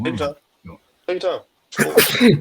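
A single loud, close sneeze bursts out near the end, following a few short spoken phrases during a casual basketball podcast conversation.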